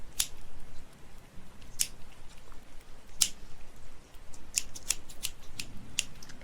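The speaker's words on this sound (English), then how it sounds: "here's the scissors. I always have scissors around me." Scissors snip several times close by, crisp isolated cuts spaced irregularly, with a cluster of quicker snips near the end.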